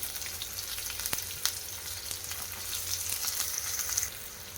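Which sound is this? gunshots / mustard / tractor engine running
mustard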